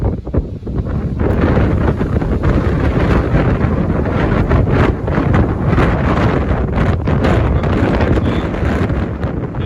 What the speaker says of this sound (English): the wind is just blowing 90 to nothing